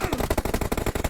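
Rapid automatic fire from a Groza assault rifle in PUBG Mobile, unsuppressed, a fast steady rhythm of loud sharp shots with no pauses for about a second.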